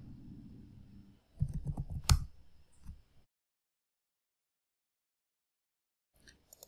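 Several sharp computer mouse clicks sound in a quick cluster near the start, close and crisp, followed by silence and a faint final click.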